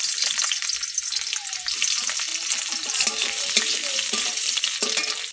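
Garlic goes into hot oil in a pan already used to fry small puti fish, giving a loud continuous sizzle with stirring scrapes up close and no talking.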